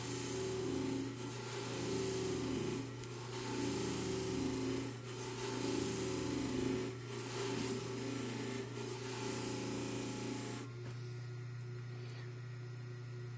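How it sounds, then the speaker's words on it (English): A buffing or polishing wheel runs steadily against a drawn metal tube worked lengthwise, a continuous motor hum with a whirring grind that swells and eases as the tube is moved, then settles lower near the end. "And when I've finished enough of that, we'll do some lengthwise polishing."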